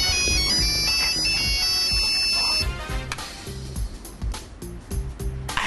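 A telephone rings with a repeating electronic trill, loud and close, then stops as background music carries on.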